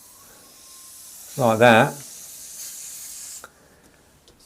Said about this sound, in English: the brush is spraying it really nice and close